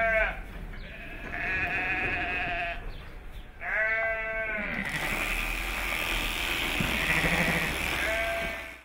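Ewes bleat loudly and repeatedly at close range at shearing time on a lamb farm. Mid-clip, a steady mechanical buzzing joins in and runs on beneath a final bleat.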